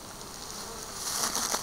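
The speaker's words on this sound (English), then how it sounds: "these bees" Small bees buzzing in a wild swarm, a steady close hum that swells slightly louder toward the end of the short stretch.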